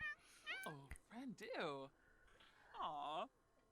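A cat meows in The Sims 4 game, several drawn-out meows rising and falling in pitch at close range, with game sounds around them.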